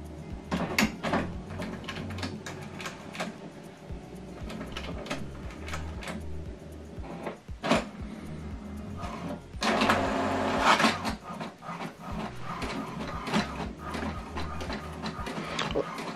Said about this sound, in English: Now what it's doing now is printing the welcome information that I sent to this printer.